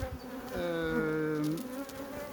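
Honeybees humming around a hive opened for a calm spring inspection in April, with oilseed rape in bloom nearby; a steady, close, buzzing drone with a higher wingbeat whine rising and falling, no talking.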